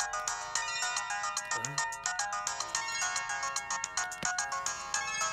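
An old mobile phone ringtone plays a repeating electronic melody in a quick pulsing rhythm, fairly loud and continuous, with a faint voice briefly underneath.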